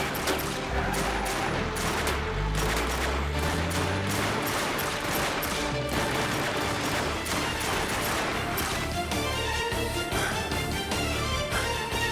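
A loud, dense fusillade of gunshots rattles continuously with overlapping sharp cracks and heavy low booms over several seconds, with no talk in the clip.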